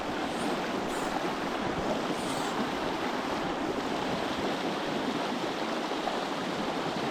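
Fast water rushes through an Oregon coastal river, a steady dense hiss and roar with no break, close and even throughout, with no voices.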